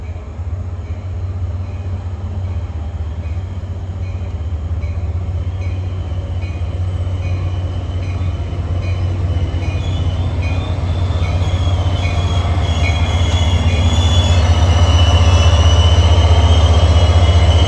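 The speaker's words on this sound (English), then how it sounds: "Here comes train 1171 from Hoboken to Suffern at 7:10." An NJ Transit commuter train, number 1171 from Hoboken to Suffern, arrives at Ramsey station during the evening rush, its steady low rumble and wheel noise growing louder and closer, with faint squealing and clacking over the track.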